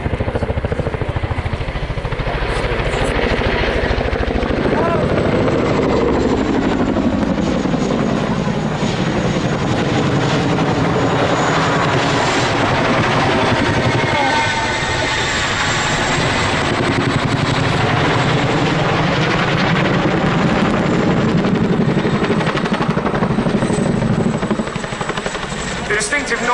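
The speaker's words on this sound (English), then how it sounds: "The distinctive noise you hear is what we call blade slap." A Chinook twin-rotor helicopter at an air show making a low manoeuvre, its loud rhythmic blade slap thudding steadily and close overhead for the whole stretch, with faint voices under the roar.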